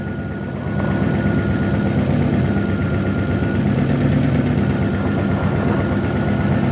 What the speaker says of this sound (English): Let the engine warm up.